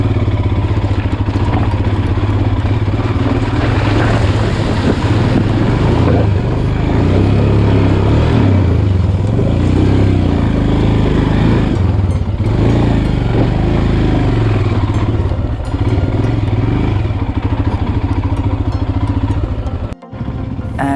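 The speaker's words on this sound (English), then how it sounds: "तो ये हमें मिला यहाँ का फर्स्ट वाटर क्रॉसिंग और आई थिंक मेरे लाइफ का भी फर्स्ट वाटर क्रॉसिंग" A Royal Enfield Himalayan motorcycle churns through an off-road water crossing, its loud engine droning steadily close by with splashing and clatter over the roar for about twenty seconds, then cutting off sharply near the end.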